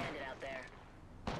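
Enemy gunfire in a video game: a dense, noisy wash of shots with sharper bursts around the middle, then a loud, abrupt crack close to the end.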